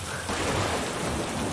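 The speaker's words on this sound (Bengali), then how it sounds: "কি বৃষ্টি নামলো যে" Steady, dense rain pours down close by, a continuous broadband hiss that swells slightly after the first moment, with low rumbling underneath suggesting distant thunder, and no voices.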